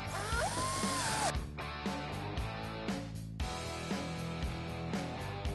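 A power drill drives screws to mount a taillight on an E-Z-Go TXT golf cart, whirring in a few short bursts with brief ratcheting pauses between them, close and clear.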